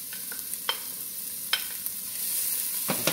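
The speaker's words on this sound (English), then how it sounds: "I have the stove on medium heat, push it around a little bit, and then I'll add in my green onion," Green onion and garlic sizzling in a pot on a stove at medium heat, a steady frying hiss with a few clicks and scrapes from stirring, close and alone.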